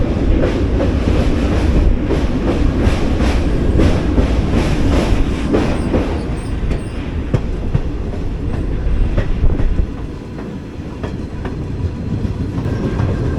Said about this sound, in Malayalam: നമ്മുടെ ട്രെയിൻ ജസ്റ്റ് ലൂപ്പിലേക്ക് കയറാണ് കൊല്ലൂർ സ്റ്റേഷൻ്റെ